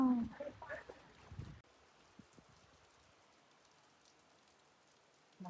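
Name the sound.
rain falling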